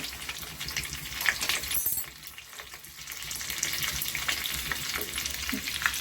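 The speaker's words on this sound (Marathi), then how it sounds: "आता याच्यात कढीपत्ता टाकायचा, मिरची टाकायची" Curry leaves and green chilies crackle and sizzle in hot oil for a Navratri fasting dhokla tempering, a close, steady frying hiss with sharp pops that briefly dips midway before picking back up.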